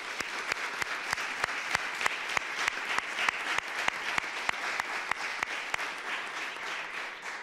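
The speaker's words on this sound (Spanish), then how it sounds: "un gran aplauso para ella" Steady rhythmic clapping from an audience at a reception honouring a Spanish under-12 karate kata champion, each clap sharp and even in tempo, continuing without pause and with no talk over it.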